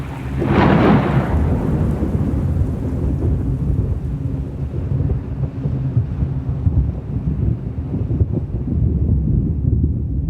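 A loud, rolling crack of thunder booms early, then rumbles on over steady heavy rain and gusts of wind.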